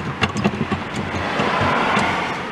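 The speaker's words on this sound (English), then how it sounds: "You can hear the traffic going by." Road traffic passing near a car pulled over for a flat-tire change, a steady broadband vehicle rush that swells and holds through the clip, with a few brief knocks near the start.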